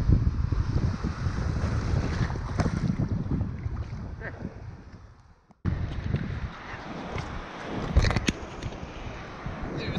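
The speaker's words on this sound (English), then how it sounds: "The waves and the wind we have today is very fresh." Strong northern wind buffets the microphone at sea during sea trout fishing, with waves washing against the shore, one brief drop out midway.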